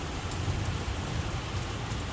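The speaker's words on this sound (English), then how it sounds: "We've got a thunderstorm." Heavy rain falling in a garden during a thunderstorm, a dense, steady hiss of downpour heard close and continuous with no talking.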